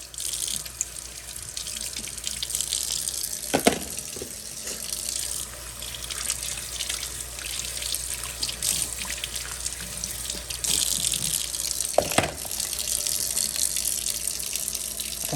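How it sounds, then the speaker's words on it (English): Hot water running from a kitchen sink tap to rinse out a Ninja Creami ice cream container, a steady close splashing hiss with a couple of louder thuds and clatters of the tub being handled. "From here, I rinse it off under hot water."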